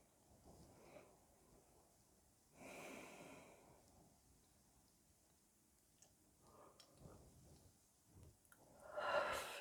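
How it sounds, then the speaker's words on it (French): A person yawns in a quiet room, with a couple of drawn-out, breathy exhales rising and fading over several seconds. Soft ticking and faint breathing fill the gaps between them. "Ça me fait bâiller"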